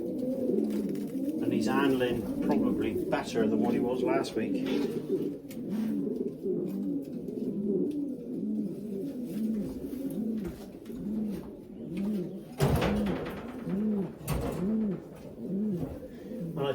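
Racing pigeons coo steadily and rhythmically in a loft, a dense run of low repeated coos filling the whole stretch while someone talks over them.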